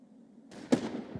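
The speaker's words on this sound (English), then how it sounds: "Grenade." A single grenade explodes in an online shooter game, one sharp mid-distance bang with a short rumbling tail, briefly preceded by low background noise.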